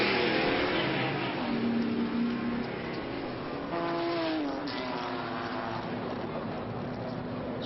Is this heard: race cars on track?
yes